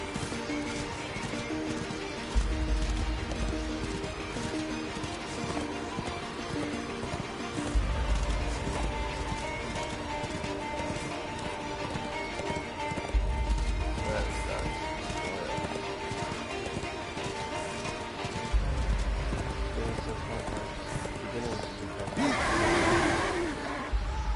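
Hooves of a horse galloping in a PS4 video game, a steady clip-clop rhythm repeating throughout under background game music and ambience, moderately loud and close.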